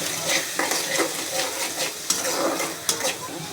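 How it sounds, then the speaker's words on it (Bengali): Ginger-garlic paste sizzles in a hot pan while a utensil stirs and scrapes against the metal, with a steady fry hiss and a few sharper clinks near the end, close and fairly quiet. "এখানে পেস্ট বাটা দিচ্ছি, পেস্ট বাটাটা ভালো করে কষা নেবো"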